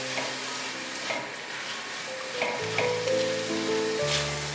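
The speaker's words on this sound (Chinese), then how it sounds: "炒到竹笋" Bamboo shoots and black dates stir-fried in a wok give off a steady sizzle and frying hiss, with periodic scraping stirs from a spatula throughout; no one speaks.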